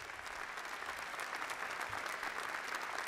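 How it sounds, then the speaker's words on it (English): Sustained audience applause fills a hall at a State of the District Address in Washington, D.C., a dense, even wash of many clapping hands held at steady loudness throughout, with no voices over it. "Let's give them another round of applause."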